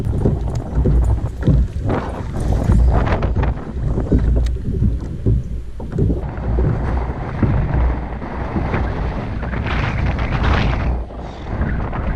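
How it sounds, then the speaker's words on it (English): Gusty wind on the water while kayak fishing for muskie buffets the microphone in heavy rumbling bursts, with thumping knocks and a brief hiss partway through. "Still windy."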